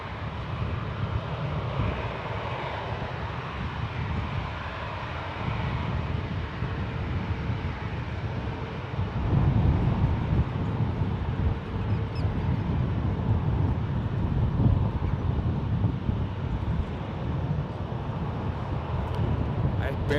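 Two airliners departing side by side at San Francisco International Airport, a continuous broad engine roar swelling midway and holding steady, heard over wind buffeting with people talking throughout.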